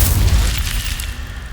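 A single Incendio fire spell blast from Hogwarts Legacy, opening with a loud, deep booming burst that quickly fades into a hissing, crackling tail.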